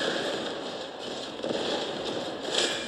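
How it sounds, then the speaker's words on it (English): A howitzer fires during a base attack in the Warpath strategy game, with dense, continuous crackling blasts and rumble that swell slightly near the end. "Once I'm locked in, I use my howitzer."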